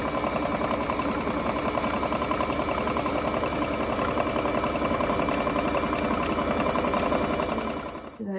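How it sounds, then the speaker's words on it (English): Close, steady rapid needle chatter of a sewing machine stitching along the long side of a fabric face mask, running continuously and easing off at the very end. "now you're going to be sewing on the long side"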